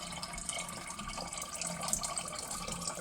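Water swirls and sloshes inside a plastic sensory bottle as it is lifted, a steady close watery rush with small splashy flickers, no talking.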